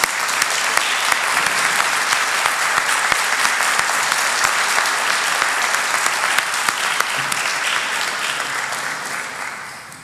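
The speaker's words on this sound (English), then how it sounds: "I'd like to give them a round of applause for that." A city council meeting audience gives a robotics team a sustained round of applause, loud and full for ten seconds before tapering off at the end.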